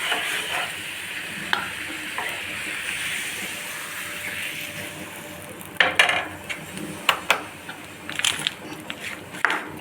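Tempering is stirred into pulihora rice in a pan, a soft continuous sizzling rustle that gives way to a burst of sharp spoon clinks and scrapes against the vessel.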